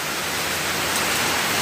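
Steady rain pours down outdoors in a dense, even hiss with no break, close and fairly loud, and no voices.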